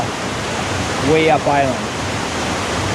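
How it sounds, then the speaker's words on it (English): A small waterfall on a river on Vancouver Island rushes in a steady broadband roar, close and loud, with someone speaking briefly over it. "I want to get close to that little waterfall"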